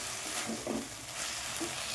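Soy sauce and green chili sauce sizzle steadily in a hot pan, a continuous crackling hiss with brief stirring scrapes, close and moderately loud.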